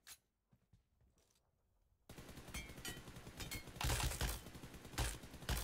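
Automatic gunfire sprays at robot targets in PUBG Mobile, rapid continuous bursts starting after a quiet stretch of light taps, loud and close, with heavier volleys toward the end.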